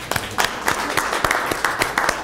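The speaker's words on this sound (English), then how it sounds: "Let's have a round of applause." Audience applause at a lecture on stem cells and eye disease: a steady run of sharp, evenly spaced claps in a roughly regular rhythm, fairly close and moderately loud over a dull room murmur.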